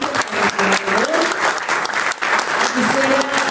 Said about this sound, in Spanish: Un fuerte aplauso, por favor, para los panelistas.